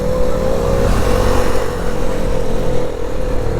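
A Yamaha R15 V3 motorcycle engine held at high, strained revs during a wheelie on a hilly road, a loud, continuous close-up drone with no talking over it.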